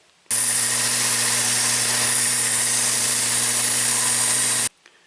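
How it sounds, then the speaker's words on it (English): Slack belt grinder sharpening a knife blade: a loud, steady abrasive whir with a low motor hum that starts abruptly, runs about four seconds without pause, then cuts off, with no voices. "Tried to get the angle on the slack grinder just right so that you could see how much pressure I'm putting on."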